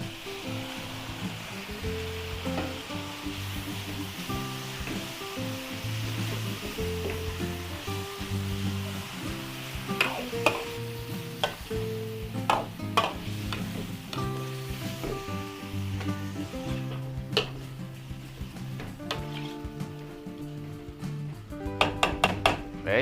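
Marinated chicken for a large birthday feast in Batangas sizzles steadily in a hot pan, with occasional clinks and scrapes of stirring over soft background music.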